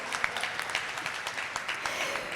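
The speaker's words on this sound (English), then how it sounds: "A clap goes right there" Scattered audience clapping at an LGBTQ flag raising ceremony, a modest crowd outdoors producing a short burst of uneven, moderately loud claps without voices.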